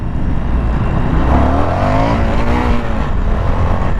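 An Indian FTR 1200 motorcycle accelerates hard in first gear, its loud engine note climbing steadily in pitch under heavy rushing wind noise.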